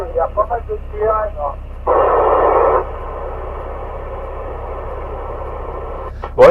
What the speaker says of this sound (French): Ouais, je viens d'entendre une station